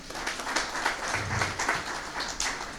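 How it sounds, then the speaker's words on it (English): Audience at a Premier's Cup media launch applauding for a mayor, dense and continuous clapping at moderate distance, with some faint voices underneath. "round of applause for her"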